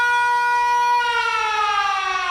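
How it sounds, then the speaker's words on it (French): A French civil defense warning siren sounds during its monthly first-Wednesday test, a loud steady wail holding a pure tone that slowly falls in pitch, heard on its own. "La sirène d'alerte là du premier mercredi du mois."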